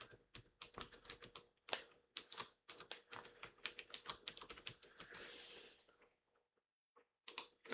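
Bursts of quick keyboard typing on a computer keyboard, close and crisp, with short pauses and a brief silence near the end before a few final keystrokes.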